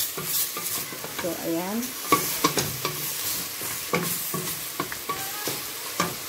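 Chicken and kangkong water spinach stirred in a frying pan, with scraping utensil strokes over a steady sizzle and brief talk in the middle.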